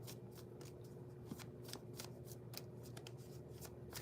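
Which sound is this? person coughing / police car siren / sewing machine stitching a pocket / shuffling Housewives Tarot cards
shuffling Housewives Tarot cards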